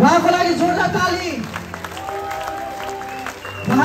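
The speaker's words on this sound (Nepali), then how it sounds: "उहाँको लागि जोडदार ताली" Audience applause for a medal winner at an International Youth Day event: a speaker's amplified voice carries through the start while scattered clapping builds beneath it, then a crowd claps on under a tonal hum.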